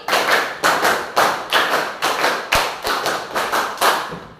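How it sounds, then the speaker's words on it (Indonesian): Sixth-grade schoolchildren in an Indonesian elementary classroom clap together in sharp, unified bursts, roughly eight evenly spaced group claps with brief reverberant tails and one heavier thump midway. "tepuk 4, tepuk 5, tepuk 5 3 kali"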